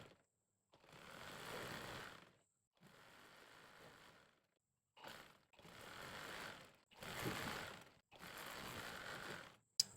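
Bursts of rapid mechanical clatter from a sewing machine stitching fabric for a panjabi sleeve, several runs of a few seconds each separated by short pauses, quiet and close.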